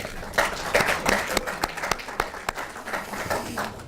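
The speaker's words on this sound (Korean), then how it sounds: "큰 박수 한번 부탁드립니다" Applause from those attending a Democratic Party caucus meeting on constitutional amendment, a burst of clapping with sharp individual claps that carries on steadily for a few seconds without any talk.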